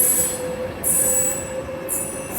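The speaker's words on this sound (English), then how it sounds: "the Pendolino on that service, heading round to a left." A Class 390 Pendolino train passes through Haymarket station with loud, high wheel squeals that repeat in bursts over a steady rolling rumble, and no one speaks.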